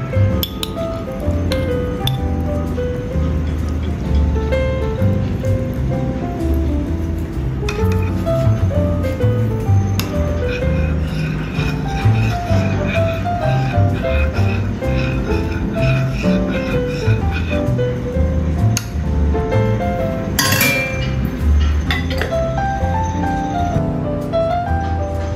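Egg mixture with olive vegetable whisked in a glass bowl, a long run of rapid clinking taps and wet squishing, loud, close and continuous with no voices.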